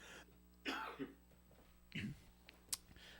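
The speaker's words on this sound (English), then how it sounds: "I got a nasty cough" A few short coughs and throat-clearing sounds, quiet and close, spaced apart with brief pauses between.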